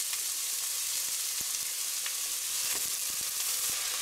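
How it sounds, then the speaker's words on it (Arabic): Chopped onion frying in oil with a little salt in a pot, a steady close crackling sizzle with occasional small pops and light stirring, no voices. "أنا قليت البصلة شوي"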